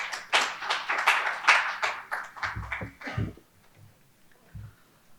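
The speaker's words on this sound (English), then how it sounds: "I would like to give a round of applause to Sandeep." Audience at the Campus to Corporate Summit 2.0 clapping for a speaker, a burst of sharp claps for about three seconds that thins to a few scattered claps, with low voices underneath.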